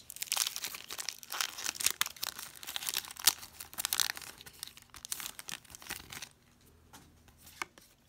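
Pokémon trading card packs being torn open and handled, a close run of crinkling foil and tearing paper with irregular bursts, which thins out to a few faint rustles near the end.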